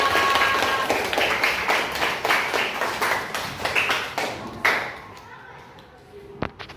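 A class of young children claps their hands in a teacher-led classroom session, a dense run of quick, uneven claps that fades out after about five seconds, followed by a single stray thump near the end.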